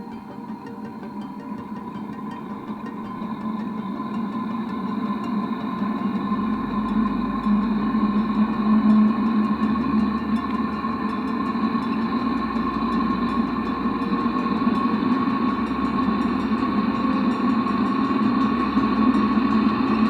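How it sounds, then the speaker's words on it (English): An Eberspächer Hydronic diesel heater runs inside a campervan with a steady droning hum and whooshing combustion noise, continuous and moderately loud, growing slightly stronger over time. "The heater is running pretty good."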